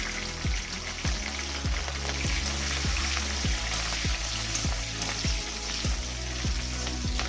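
Dried red chilies and green chilies fry in oil with a dense, steady sizzle, while regular rhythmic thumps repeat roughly every half second in the background.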